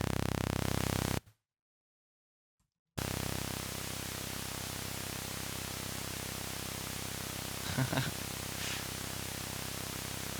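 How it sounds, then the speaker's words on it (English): A steady pink noise test signal hiss fills the clip, briefly cutting to silence near the start, with a couple of faint clicks later on. "Oh, whoa, pink noise has like a dip?"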